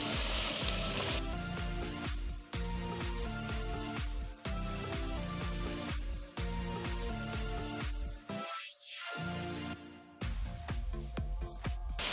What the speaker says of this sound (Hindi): फ्लेम आपने मीडियम टू हाई रखना है, क्योंकि हमने सब्जियों को पकाना नहीं है, गलाना नहीं है, बस थोड़ा सा सौटे करना है।